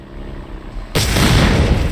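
An enemy radar blows up in the video game Empires: a sudden loud boom bursts in after a low rumble and keeps roaring with dense, crackling debris to the end.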